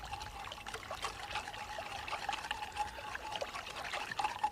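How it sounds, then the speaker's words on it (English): Wine vinegar trickles in a thin, faint stream into an almond soup, a soft continuous pouring with no talk over it. "next, a little bit of wine vinegar."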